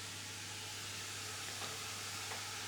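Steak, kidney and onions sizzle in a pan with a steady, dense frying hiss that stays even throughout, close and moderately quiet, with a couple of faint soft stirring touches.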